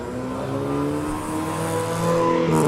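A race car's engine drones steadily with rising revs as the race begins, a continuous mid-pitched roar that swells slightly louder toward the end, with no talking over it.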